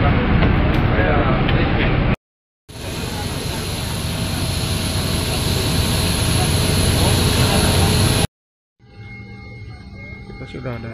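Steady, loud roar of a jet airliner's engines heard from inside the cabin, a broad continuous drone broken by two short cuts to silence, followed by quieter cabin sound at the end.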